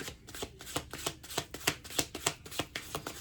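A deck of cards being riffled over and over in a steady, crisp rhythm of flicks and snaps, close and fairly quiet, with no talking.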